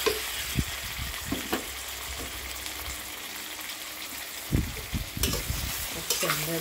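Pieces of cut catfish sizzle loudly in a hot pan with fragrant aromatics while being stirred, with steady frying hiss and repeated scraping stir strokes close up, for a Thai spicy stir-fry.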